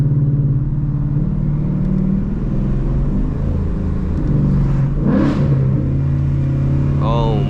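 Ford Mustang GT engine in sport mode during a drive around a lake, a deep, steady rumble from inside the car that swells briefly, with a voice speaking near the end.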